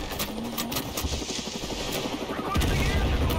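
In the video game Total Conflict: Resistance, a helicopter's rotor thrums steadily beneath rapid bursts of gunfire, with the rumble growing slightly louder toward the end.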